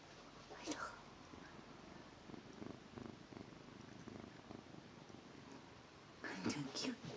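A house cat purrs softly and close up in a quiet room, a low steady rumble running through most of the stretch, with brief louder rustles near the start and end.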